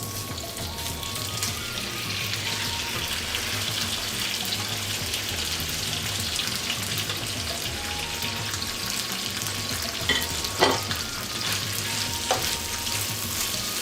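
Cooked beef tripe frying on high heat in a pan, a constant dense sizzle close by, with a few scraping stirs and light clinks of a spatula toward the end.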